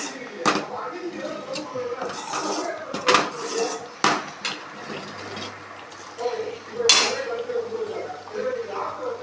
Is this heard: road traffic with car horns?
no